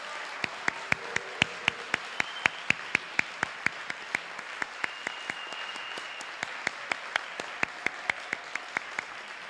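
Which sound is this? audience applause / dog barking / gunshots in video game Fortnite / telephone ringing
audience applause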